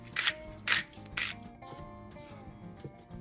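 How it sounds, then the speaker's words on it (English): Flour mixture is stirred into wet batter in a bowl. Three distinct scraping strokes sound up close, followed by softer, quieter rubbing and stirring. "Gradually stir it into the wet mix."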